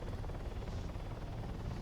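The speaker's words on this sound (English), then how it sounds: "Be advised, CH-47 inbound right now." A CH-47 helicopter approaches in the ArmA 3 video game, a faint, steady low rotor rumble with no talk over it.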